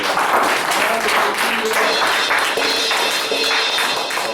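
A church congregation claps and cheers in praise during a service, steady, dense applause that stays loud throughout, with a few voices mixed in.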